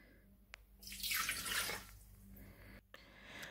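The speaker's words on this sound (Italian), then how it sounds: "pesa 350 grammi d'acqua" Water pours into the bowl of a Thermomix-style kitchen appliance as 350 grams are weighed out, a short steady splashing stream that swells and then tapers off within a couple of seconds, near and fairly quiet.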